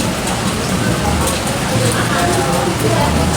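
Steady rain falls in a dense, continuous hiss, close and fairly loud, with a faint murmur of voices beneath it.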